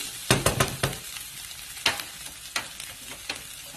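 Onions fry in a pan for a tomato pizza topping, with bursts of clattering stirring scrapes over a faint sizzle. A few sharp strokes come close together, then sparser ones follow.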